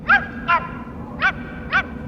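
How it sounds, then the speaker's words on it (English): A dog barks four times in short, sharp yelps spaced unevenly over two seconds, close and clear over a quiet background. "the dog starts barking"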